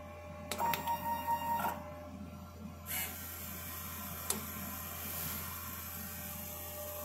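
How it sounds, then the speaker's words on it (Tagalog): A DTF printer working in a print shop, its print head area and cutting area moving in mechanical passes: a whirring carriage run in the first seconds, a sharp click, then a steady low motor hum. "ito po ang DTF machine ng 888 Bacolod. Ito po yung printer head area at saka yung cutting area"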